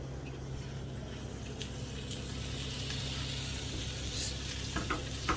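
Steak seasoned and set fat side down in a hot pan, a steady dense sizzle holding evenly throughout, close and continuous with faint crackles near the end.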